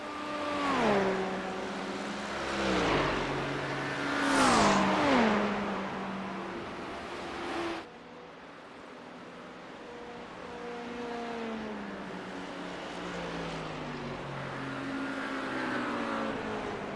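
Race cars lap in a virtual 24 Hours of Le Mans in the iRacing game, several engines revving and shifting through gears with rising whines, pitch drops as cars pass, then a steadier engine drone continuing.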